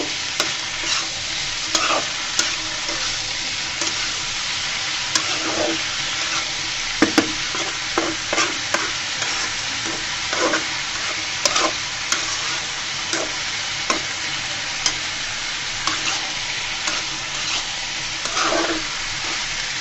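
Continuous sizzling of radish greens frying in a pan, with repeated scraping clicks of a utensil stirring them, close and steady, no talking.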